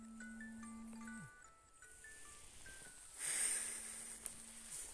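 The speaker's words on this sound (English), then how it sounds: "That's my alarm." A broken phone's alarm plays a beeping electronic melody of stepped tones outdoors on a rainy trail in Ireland, a low sustained tone under higher notes, with some rustling and wind.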